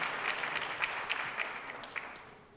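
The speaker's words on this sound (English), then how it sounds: "One more round of applause" An audience at a Vasant Panchami community gathering claps after a performance, a full wash of applause with a few louder individual claps that gradually tapers off toward the end.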